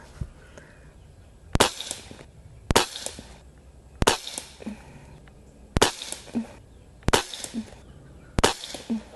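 Six sharp shots from an Umarex Walther Reign .22 caliber bullpup air rifle fired at a target, spaced roughly a second or so apart, each a loud crisp crack with a short ringing tail in a quiet setting.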